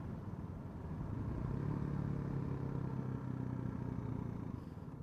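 A Suzuki GD250R motorcycle ridden at Kolomoki, its engine a steady, fairly faint drone that swells slightly and then holds without talk.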